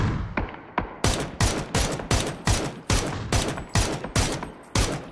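Rapid automatic gunfire in a shooter video game, loud repeated bursts of shots in a fast, steady rhythm after a few scattered opening shots, with no voices.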